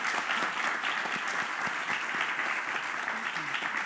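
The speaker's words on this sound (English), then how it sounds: "I'm about to say that should get a clap." Audience applause at a talk on manga creators; a sustained round of dense clapping, fairly close, holding steady throughout.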